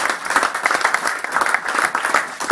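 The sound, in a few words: audience applause at a press club event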